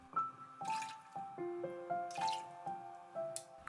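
Orange juice is poured for a peach cocktail made with peach schnapps and coconut rum, heard as quiet, close splashing and trickling in short bursts with small liquid plinks.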